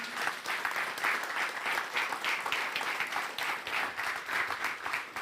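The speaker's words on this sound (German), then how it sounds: "Yeah, Applaus für unsere Mütter." Church congregation at a Mother's Day service applauds the mothers with dense, sustained clapping from many hands, steady and moderately loud throughout, with no talking over it.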